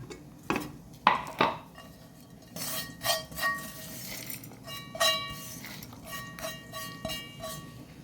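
Metal utensils clink and scrape against a steel mixer jar as radish pulimunchi ingredients are transferred in: several sharp taps and clanks, close by, with short pauses between them and no voices.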